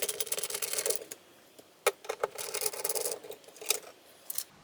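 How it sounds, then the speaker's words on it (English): An old thermostat backing plate being pried and scraped off the wall inside an Airstream trailer: close, irregular rasping and scraping bursts with a few sharp clicks and knocks, no talk. "I'll go ahead and also take out this backing plate for the old"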